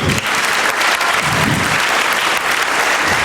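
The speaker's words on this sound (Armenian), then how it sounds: "եկեք ծափարենք Արսեն Ջուլֆալակյանին" An audience claps steadily throughout at a club program event, dense and loud applause with no pauses.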